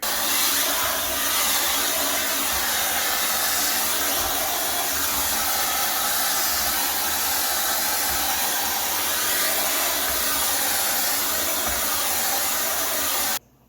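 A Miele C1 Classic pure suction vacuum cleaner runs with an attachment, producing a loud, steady, rushing roar that holds evenly for the whole stretch, then cuts off abruptly at the end. No talking.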